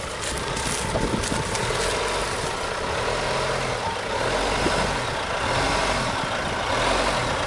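A Jeep Renegade Trailhawk idles off-road in a trench with its throttle released, giving a steady, moderately loud engine drone with no revving and only a faint breathy hiss above it.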